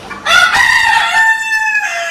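Rooster crowing among hens in a backyard poultry coop, one loud, drawn-out call close by lasting about two seconds with no talk.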